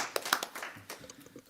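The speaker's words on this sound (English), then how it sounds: "Now I'm going to clap." Several hand claps at a public board meeting right after a unanimous vote, scattered and uneven over a little more than a second, fairly soft in a room with light background murmur.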